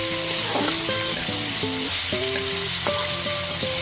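Diced potatoes and carrots frying in a pan for sago pulao while being stirred, a bright, close sizzle with repeated scraping strokes and no one talking.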